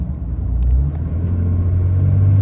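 Ram Cummins 6.7L diesel pickup with a rebuilt turbo, a loud deep engine rumble rising steadily as the turbo spools up, heard close from inside the cab with no talk.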